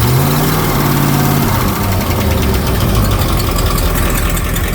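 A Mopar 340 V8 idling in an old 1972 Penn Yan boat, a loud, steady, close-up rumble with an even, throbbing beat and no talking.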